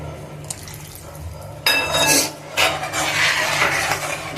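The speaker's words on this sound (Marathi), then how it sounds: "मी पुन्हा अजून हे राहिलेलं कॉर्नफ्लावरचं पाणी ऍड करते" Cornflour slurry is poured into a simmering Manchurian sauce in a kitchen pan, with a sudden loud rush of liquid and clinking that continues steadily to the end.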